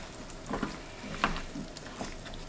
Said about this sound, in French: laisser ma pseudo ratatouille mijoter un tout petit peu